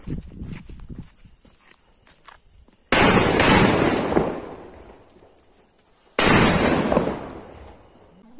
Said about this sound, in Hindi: आई थिंक ये बहुत ही जोरदार चलेगा और पावरफुल भी पटाखा है ये